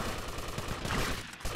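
Shotguns in the Vice City Hardline mod video game fire in a quick, loud flurry of overlapping blasts, with a brief dip near the end.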